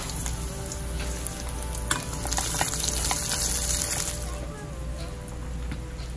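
Large garlic cloves fry in hot oil with popped mustard seeds, a steady close sizzle with scattered crackles and a few sharper pops.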